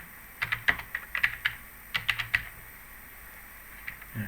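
Short bursts of keystrokes clatter on a computer keyboard, a few quick taps, a pause, then another cluster of clicks, close and fairly quiet against a faint background hiss.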